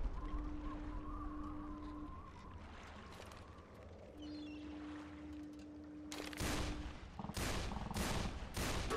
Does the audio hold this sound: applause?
no